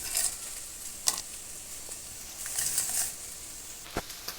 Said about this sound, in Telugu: మధ్య మధ్యలో వేయించుకుంటూ ఉండాలి.